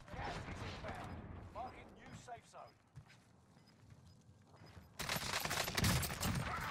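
Gallo shotgun blasts and gunfire in Call of Duty on Rebirth Island, a few sharp shots and mechanical clatter early, a quieter stretch, then a loud burst of firing at the end, with players talking over it.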